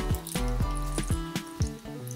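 Water poured from a container onto red cabbage powder, heard as a steady splashing and trickling with rhythmic drips and gurgles, close and moderately loud, with no talk.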